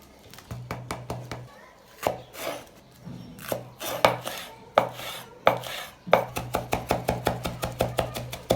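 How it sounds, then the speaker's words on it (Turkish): A knife chops two red capia peppers finely on a cutting board in a home kitchen, rapid bursts of sharp knocks in even rhythm broken by short pauses, close and clear. "2 adet kırmızı kapya biberini aynı şekilde ince ince doğruyorum"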